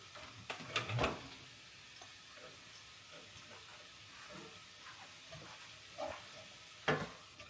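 Chopped onion dropped into a hot pan for a home-cooked recipe, bursting into loud sizzling frying with sharp crackles near the start and again near the end, a steady softer sizzle in between.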